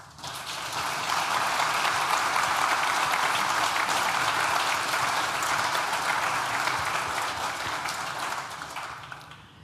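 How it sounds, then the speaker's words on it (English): Graduation ceremony audience for a School of Science and Technology giving a sustained round of applause, a thick, even roar of many hands that swells in, holds steady for several seconds, then fades. "Please join me in thanking them with a well-deserved round of applause."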